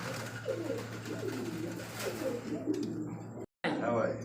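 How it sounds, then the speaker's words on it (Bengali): A pair of Mukhi pigeons coo in soft, repeated throaty rolls close by, with someone talking over them throughout. "অসাধারণ কিন্তু এক জোড়া মুখী কবুতর"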